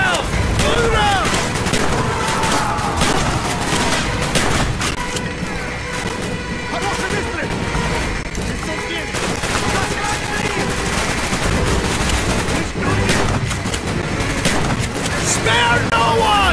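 Sustained automatic gunfire and bursts of shooting in the Call of Duty Black Ops Vorkuta prison mission, loud and continuous over chaotic battle noise with shouted voices mixed in.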